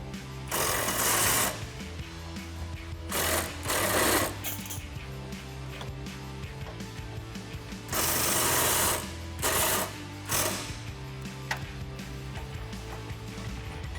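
A ratchet spins out 13 mm bumper bolts in a fender well on a 2011-2016 Ford Super Duty, quick loud bursts of clicking in several separate runs, close up, with quieter gaps between and no talking.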